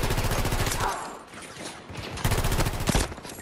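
Bursts of rapid automatic gunfire ring out on the Haven map of a shooter game, loud and close, pausing for about a second before another dense volley.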